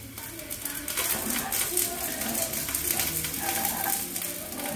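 Onion and sausage frying in a pan for farofa, a steady dense sizzle with scraping stir strokes running throughout, fairly close and loud, with no talk over it.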